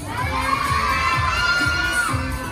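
A crowd of kids at an indoor play centre event in a mall shouting hello back loudly in unison, a sustained, dense wall of young voices close and loud.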